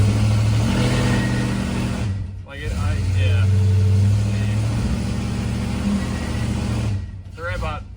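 Whiplash Cuda with new torque converter and valve body, engine revving in gear against the foot brake for a stall test: deep droning revs that hold, dip, then climb again, with brief talk during the lulls.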